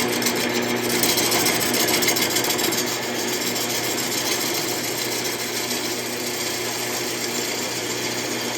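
Power tool cutting a glued-up segmented wooden bowl base round, making a loud, continuous close buzzing whir with a rough grinding edge that eases slightly partway through, with no talking.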